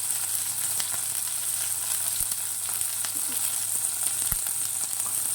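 Ingredients for mint chutney fry in a pan with a soft, steady sizzle, joined by a few sharp clicks and taps of a utensil against the pan.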